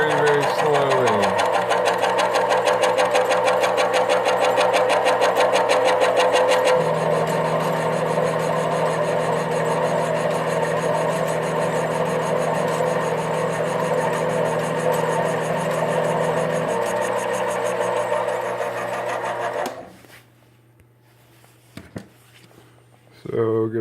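A CNC lathe feeds out slowly on a test cut, giving a loud, steady mechanical whine and hum with shifting tones for about twenty seconds before cutting off into near quiet, then briefly starting again.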